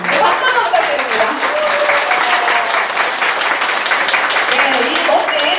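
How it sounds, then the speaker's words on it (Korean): Audience applause at a Korean author's book concert, sustained dense clapping filling the room steadily for several seconds, with voices faintly mixed underneath. "박수 한번 부탁드립니다"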